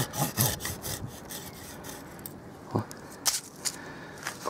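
A folding garden saw cuts through wood in a series of rasping, rhythmic strokes, up close and moderately loud, with a few sharper scrapes and no talking.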